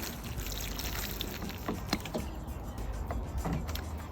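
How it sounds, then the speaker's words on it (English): Water poured onto potting soil in a container for growing beetroot at home: a steady, close, hissing trickle with faint splashes runs throughout at low level, with no talking. "Then I will water it,"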